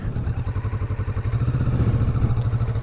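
A Kawasaki Vulcan S motorcycle engine runs while being ridden, a loud, close, steady pulsing throb with a chopper-like beat, and no speech.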